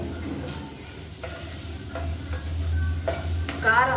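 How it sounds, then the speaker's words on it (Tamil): Egg fries with masala in oil over a medium flame, a low steady sizzle broken by periodic spoon scrapes and stirring clicks, close and moderately quiet. "மீடியமான ஃப்ளேமில் இந்த மசாலாவோட இந்த முட்டையை வந்து நல்லா வறுத்துக்கலாம்"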